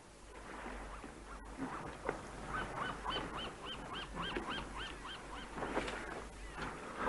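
A bird calls repeatedly in honking, goose-like notes near a small fishing boat at sea, fairly close over a steady low rumble.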